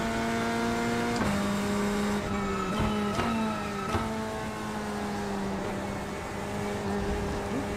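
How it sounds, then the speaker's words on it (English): A Porsche race car in a sim racing game passes by, its engine note rising and falling through several gear shifts as it accelerates, a steady, moderately loud whine with no talk. "I'm gonna get off and let this Porsche go by."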